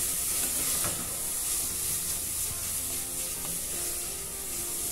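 Precooked couscous mixture is stirred while sizzling in a pan, a steady close frying hiss broken by occasional scrapes and knocks of the spoon.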